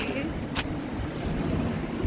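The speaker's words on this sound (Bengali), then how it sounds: "গরমের পর প্রথম বৃষ্টি গ্রীষ্মের প্রথম বৃষ্টি" Steady first summer rain after hot weather hisses and patters all around, a dense wash of falling water with a low rumble beneath and no clear voices.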